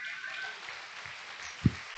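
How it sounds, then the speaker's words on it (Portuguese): Church congregation applauding, a continuous wash of many hands clapping at moderate level, with one louder low thump near the end. "Então vamos aplaudir o nome do Senhor."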